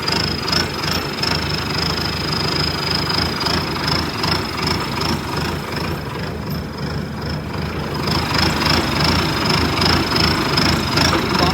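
A tractor engine idles steadily and loudly throughout, a continuous low rumble with a faint high whine riding on top, while pulling a trolley out of rain-soaked mud.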